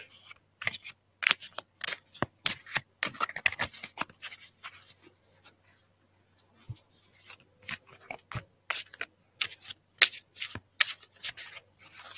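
A deck of reading cards is shuffled by hand at close range, quick riffling bursts and soft slides coming in clusters with brief pauses between, quiet and alone.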